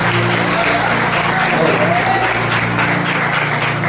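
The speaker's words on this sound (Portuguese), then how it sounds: "Se vocês creem nessa verdade, aplaudam o nome do Senhor." Church congregation applauding together, a steady dense wash of many hands clapping that holds level throughout, with a low sustained tone like music or organ underneath.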